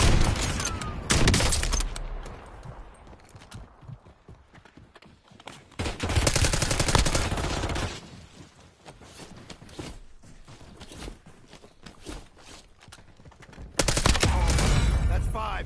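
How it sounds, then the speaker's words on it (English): Heavy automatic gunfire in a Call of Duty match comes in loud sustained bursts separated by quieter stretches of scattered shots and movement, with some voice in the background. "Under fire."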